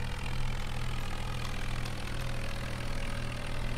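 Tractor engine in Farming Simulator 19 on an Indian map during rice cutting, a steady low droning rumble that holds constant throughout with no talk.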